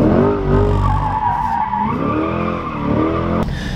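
A mid-engine C8 Corvette on brand new, very sticky tires squeals loudly and continuously while drifting under heavy throttle, the rubber screech rising and falling in pitch for several seconds.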